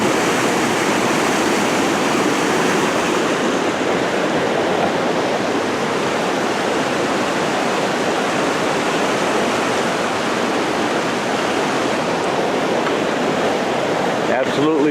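Spring Camp Falls pours in a loud, constant roar of rushing water, close and unbroken for the whole stretch, with no voices over it.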